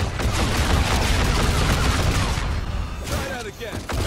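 Dense rapid gunfire from Call of Duty Infinite Warfare Zombies fills the clip, continuous bursts over game noise, with a player talking over it.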